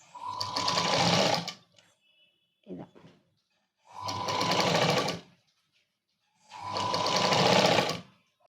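A sewing machine stitches the sleeves of a Punjabi dress in three loud, close bursts of about a second and a half each, separated by quiet pauses and a brief rustle of fabric handling.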